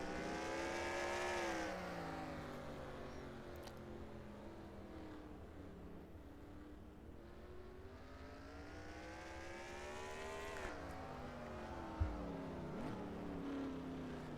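Race cars in a NASCAR-style racing game howl through a track, engine notes dropping under heavy braking into a turn, then climbing again as they accelerate, loud and continuous with a brief sharp knock.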